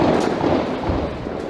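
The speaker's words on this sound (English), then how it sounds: "Explosives and gunfire rang out." Bursts of gunfire and explosions from the storming of a school during a siege, a dense, rumbling crackle of blasts that stays loud and unbroken with no voices.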